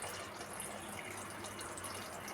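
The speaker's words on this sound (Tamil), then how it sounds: "ஊற வச்ச புளி தண்ணி அதோட ஆட் பண்ணிக்கணும்." Steady pouring of soaked tamarind water into a pot, a continuous liquid rush with no break, fairly soft and close.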